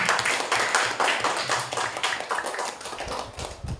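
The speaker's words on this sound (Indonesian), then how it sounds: "Beri tepuk tangan buat kelompok 4." A classroom of students applauds group 4 after their forest-ecosystem diorama presentation, a steady wash of many hands clapping close by for several seconds.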